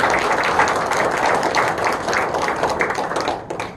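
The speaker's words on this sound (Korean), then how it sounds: "다시 한번 큰 격려의 박수 부탁드립니다" A hall audience at a founding general meeting applauds the board members, steady dense clapping that holds evenly for a few seconds before thinning slightly at the end.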